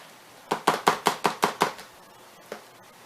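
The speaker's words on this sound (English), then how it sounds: "Then all you're doing is just mashing them all." Cooked pressure-canned beans are mashed in a pot for refried beans: seven quick, evenly spaced thuds, then a lone softer knock after a short pause, close and clear with no talk.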